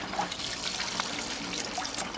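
Rainwater pouring from a spigot into small buckets, a steady close splashing trickle with no talk, running continuously for a couple of seconds.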